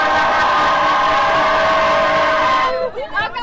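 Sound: Montreal metro station with train noise

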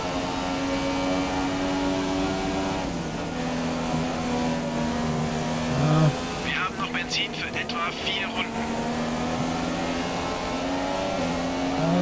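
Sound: F1 car engine driving through a corner in F1 2017 video game

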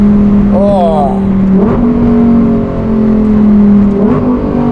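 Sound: Lamborghini Huracan GT3 street car engine accelerating

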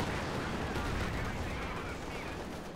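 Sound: artillery fire in video game Company of Heroes 2

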